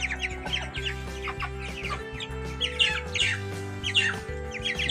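Broiler chickens, about 22 days old, are let out into a free-range area. Many birds squawk and cluck continuously at close range over a steady low hum, with overlapping, busy calls throughout.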